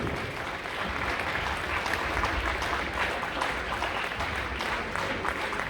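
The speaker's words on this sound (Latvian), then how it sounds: "Pateicamies ar aplausiem!" An audience at a dance competition in Jūrmala applauds, a full, dense roar of clapping held evenly for several seconds.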